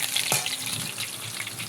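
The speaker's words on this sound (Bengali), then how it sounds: "এদিকে মাংসের জন্য পেঁয়াজ ভেজে নিচ্ছি আমি" Onions sizzle in oil in a wok for a meat curry, a steady close frying hiss with a brief stir scrape near the start, no voices.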